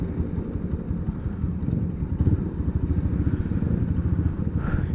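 A Honda CB250 motorcycle with upside-down forks rumbles steadily nearby, its low engine note continuous and fairly loud, with a faint rising whine near the end.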